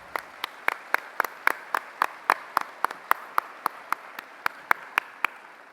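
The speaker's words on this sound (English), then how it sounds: "Let's take a moment to applaud the generosity of all our sponsors" A single pair of hands clapping steadily at a philanthropy day event honoring sponsors, about twenty crisp even claps in a regular rhythm, close and fairly loud with no voice.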